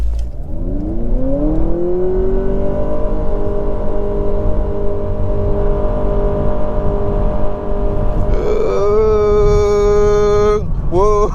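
A 2023 Honda Accord Sport Hybrid accelerates hard in sport mode with a droning engine and motor whine that climbs in pitch and then holds steady. Near the end comes a brief higher whine, heard from inside the cabin.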